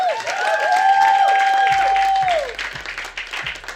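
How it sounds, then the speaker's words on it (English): A comedy club audience gives a round of applause for a comedian, loud crowd clapping under sustained music or feedback tones, thinning out toward the end. "give a big round of applause again for Mr."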